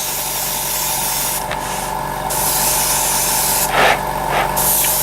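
Aerosol spray paint hissing in fine coats onto a scale model, with a steady close background hum and short bursts of louder spray that start and stop a few times.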